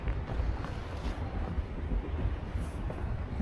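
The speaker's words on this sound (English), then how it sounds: "You can hear the train rumbling in the background." A train rumbles steadily and low in the distance beside an outdoor bird island park in Deventer, Netherlands, a dull continuous roar with light wind noise and no voices.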